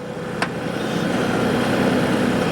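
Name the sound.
tractor engine idling at about 1200 RPM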